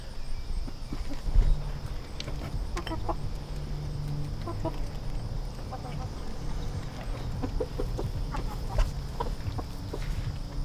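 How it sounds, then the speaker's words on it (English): Scattered soft clucks and calls of chickens in a video game over a low steady background hum, with occasional clicks and faint footstep-like taps. "I'm farming chickens."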